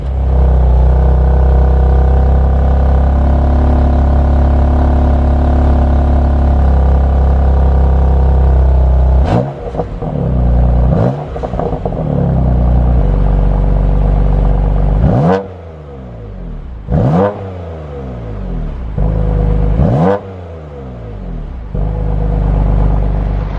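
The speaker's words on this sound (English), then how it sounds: "fire it up just so you get an idea of what it sounds like." A BMW M2 Competition with M Performance parts idles with a deep steady rumble, then its engine is blipped in several sharp revs that rise and fall quickly, loud and close.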